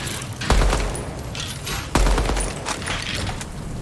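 Gunfire in the video game Deadrop: two loud, sharp shots roughly a second and a half apart, each ringing out over a steady background of game noise, with further softer firing at the end.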